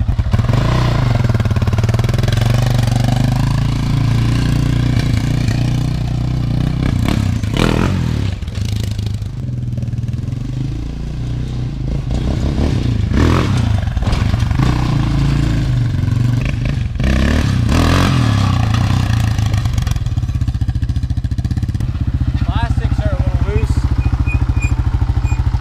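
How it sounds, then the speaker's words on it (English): A warmed-up Honda CR80 big bore two-stroke dirt bike with the choke off, its engine revving loudly and continuously with rising and falling throttle blips and mechanical clatter, close by, with a voice talking over it. "This baby's all warmed up. Time to turn the choke off and give it a quick rip."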